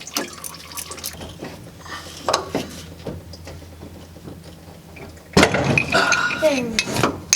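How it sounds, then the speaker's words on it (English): Engine coolant drips and trickles from a dropped car engine, a steady watery patter with light clinks, growing louder and splashier toward the end as people talk over it. "That freaking coolant is still going."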